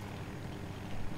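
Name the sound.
jet aircraft flying by in Battlefield 2042 video game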